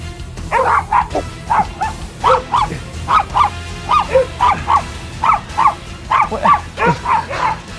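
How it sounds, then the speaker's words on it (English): Dogs bark repeatedly indoors in a house, a loud, close series of rhythmic woofs and yips roughly every half second, with occasional whimpering between barks. "my dog Boomer is going on a series of dates with famous dogs to find his crush"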